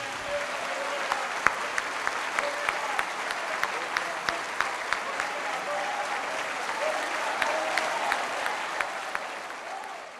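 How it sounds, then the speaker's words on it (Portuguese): Sustained applause from a church congregation, steady and dense clapping filling the space for several seconds, with a few sharper claps standing out. "Vamos dar mais uma salva de palmas."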